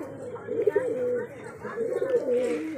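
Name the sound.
Mattas pigeon cooing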